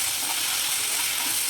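Cashews, whole garam masala and coconut powder are stirred in a hot pan, giving a steady close sizzle with faint scraping for a brief moment.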